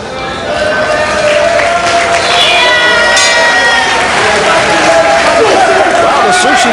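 A boxing crowd in a Tokyo arena before the final round of a heavyweight bout makes a loud, continuous roar of cheering and shouting, with voices rising and falling in dense layers.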